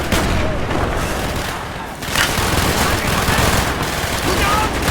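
Mortar launches and gunfire from a battle in the video game Call of Duty Black Ops, a dense, loud barrage of shots and booms running continuously with a brief dip, voices shouting over the din.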